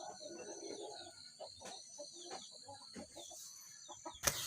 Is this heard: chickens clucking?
yes